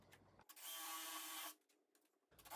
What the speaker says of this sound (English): and then I'll drill all the way through.